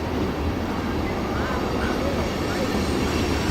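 A very long freight train rolls past steadily, a continuous low rumble of rail cars with broadband rattle holding at an even, close level throughout.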